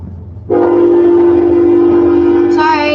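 A train passing next to nearby tracks blares its horn loudly and suddenly in a sustained, steady blast that shifts pitch near the end, after a quiet low rumble.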